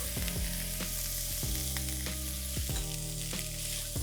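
Wilted spinach and boiled corn filling for cheese pide cooking in a pan, with a continuous bright sizzle and repeated scraping stirs of the spatula at a regular pace, heard close with no voices.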